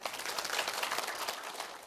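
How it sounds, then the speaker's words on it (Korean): A lecture-hall audience applauds at a seminar, a dense, steady wash of many hands clapping together for about two seconds, fairly loud with no talking over it. "박수 한번 칩시다."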